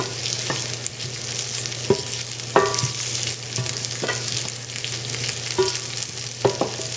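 A handful of almonds sizzles as it browns in a pan, a constant close frying hiss broken by intermittent clicks and scrapes from stirring, with no talk.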